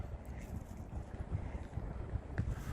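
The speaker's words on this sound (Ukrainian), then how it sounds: "Трошки вітер" Low, steady wind buffets the microphone outdoors, a constant rumbling rush with gusty swells and no voices.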